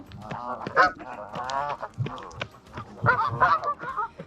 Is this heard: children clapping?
no